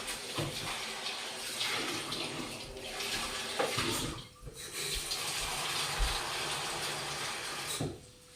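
Tap water runs steadily into a kitchen bowl to wash sweet peppers, a continuous close splashing rush with brief shifts and a short break near the middle, with no talking.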